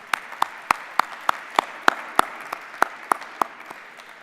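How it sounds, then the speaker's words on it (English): A conference audience at a clean energy manufacturing summit keynote claps in a sparse, uneven rhythm, a dozen or so distinct, fairly close claps standing out rather than a full ovation. "let's give CUNY and the Chancellor a big round of applause and a thanks"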